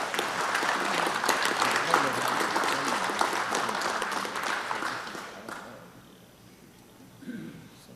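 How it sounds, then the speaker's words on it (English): Applause fills a city council meeting room, a dense burst of clapping lasting about five seconds before fading into quiet room tone, with a brief murmur near the end. "let's give Garver a big round of applause."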